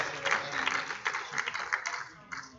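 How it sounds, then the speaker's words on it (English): A church congregation gives a clap offering during a Sunday morning service, steady moderately distant applause with uneven bursts of clapping throughout. "We're going to give a clap offering in the house of the Lord this morning."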